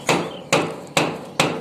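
Four sharp, evenly spaced hammer blows ring out close by, each a crisp metallic thwack decaying quickly before the next.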